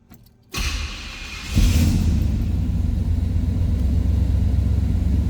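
A 1965 Pontiac Catalina two-door hardtop engine cranks briefly, catches with a loud thump, and settles into a steady, deep, rumbling idle heard up close with no talking.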